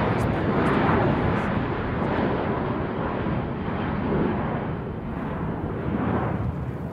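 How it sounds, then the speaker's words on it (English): A low-flying passenger airliner, white with red stripes, passes overhead with a loud, broad, sustained roar that swells and fades slowly, filling the whole stretch. "That was for sure a passenger airline."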